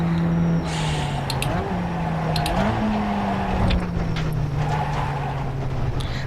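A Pontiac race car in iRacing, lapping Oulton Park Fosters with a sustained engine drone that rises and falls as it shifts and brakes through corners. Brief clicks sit over the loud, steady motor.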